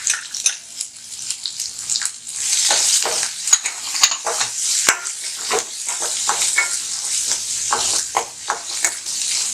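Green chilli, ginger and garlic sizzle and crackle in hot oil, a bright continuous hiss with scattered pops and stirring clatter, steady and close with no talk.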